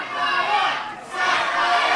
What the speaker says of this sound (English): We've got dueling chants from the crowd.